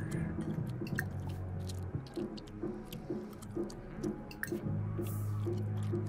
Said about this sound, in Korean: 쩝쩝 소리 낸다.